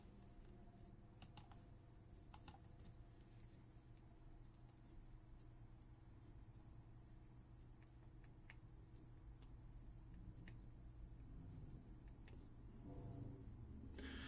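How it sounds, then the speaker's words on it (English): Steady crickets chirp continuously through the night, a dense unbroken insect drone that stays constant from start to finish with no voices. "Cricket noise, cricket noise."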